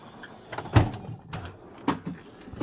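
A drawer of a toolbox side cabinet slides and knocks, with two sharp metallic clunks separated by a pause and quieter rattles in between.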